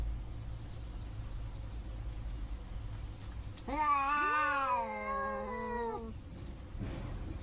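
One long, wavering cat yowl rises and falls for a couple of seconds over a steady low hum of background noise.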